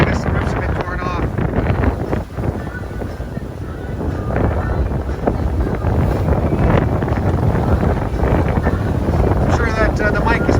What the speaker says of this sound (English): I'm sure that the mic is picking up how windy it is